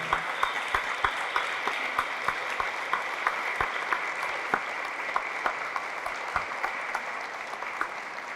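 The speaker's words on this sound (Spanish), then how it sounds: "Fuerte ese aplauso" Congregation applause at a Catholic church service, steady dense clapping with a few sharper individual claps standing out, sustained and fairly loud throughout.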